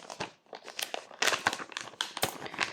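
Plastic wrapping crinkles and tears close up as a package is opened by hand, a series of sharp, irregular rustling bursts with brief pauses between them.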